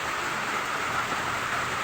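Heavy, steady rain pours down beside a drainage canal brimming with floodwater, a dense, even hiss that holds constant throughout with no voices or other distinct sounds.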